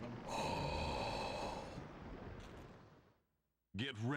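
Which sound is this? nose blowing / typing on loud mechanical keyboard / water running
nose blowing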